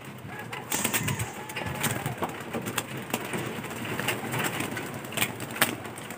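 Pigeons coo steadily in a loft, a low murmuring chorus mixed with flapping and light knocks, under a constant outdoor hum.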